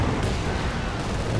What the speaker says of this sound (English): In comes the incendiary artillery on the double packs again